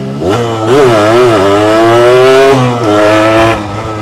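A Yamaha RX King two-stroke motorcycle revs hard and accelerates, its loud buzzing engine rising and dipping in pitch through several throttle surges, close and continuous with no talk.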